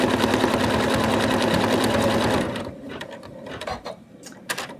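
An embroidery sewing machine stitches a center line on an in-the-hoop Santa doll, whirring in a fast, even mechanical rhythm for a few seconds before stopping, followed by faint clicks and handling noises.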